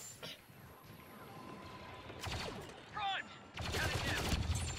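A blaster sentry gun firing in Star Wars Battlefront II during a Galactic Assault on Kashyyyk, heard as short rapid bursts that grow into a longer sustained volley over battle ambience.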